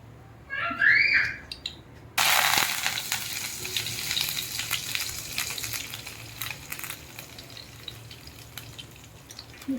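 Dal poured into a hot tempering pan, a sudden loud sizzling burst after a brief stir and clatter, then a long crackling fry that slowly fades to softer spitting and bubbling.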